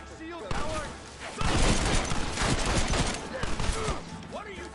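Gunfire in the Western video game Red Dead Redemption, a dense rapid volley of overlapping rifle and pistol shots, loud and continuous, with shouted voices over the shooting.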